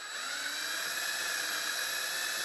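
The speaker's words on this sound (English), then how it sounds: "So just going to gently drill until that" A small drill bores out the rivet post on the base of a 1979 Matchbox Mercedes 450 SEL diecast model, giving a continuous high-pitched whine that holds steady for the whole stretch.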